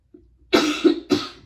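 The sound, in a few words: cough and throat clearing from hoarseness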